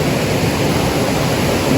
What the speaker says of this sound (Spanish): el ruido del agua nos va a acompañar prácticamente toda la ruta